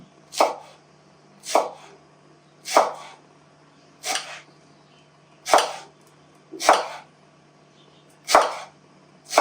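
A folded bundle of coriander being finely chopped with a knife on a board: eight crisp, evenly spaced chops about a second apart, close and clear with no talking.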